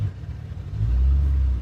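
A 2006 C6 Corvette pulls away from a parked spot, a deep engine rumble rising and swelling close by as it moves off.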